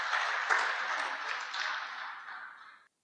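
An audience at a no-till farming conference gives a round of applause for an award winner, a steady mid-level burst of clapping that tapers off and stops abruptly.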